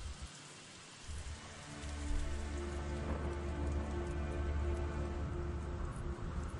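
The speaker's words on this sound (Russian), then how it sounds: "Шел очень сильный дождь." Heavy rain in the video game Painkiller: Black Edition pours down steadily as a dense, close hiss that swells a little louder after the first couple of seconds, with no talking.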